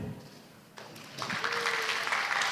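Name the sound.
audience applause at press conference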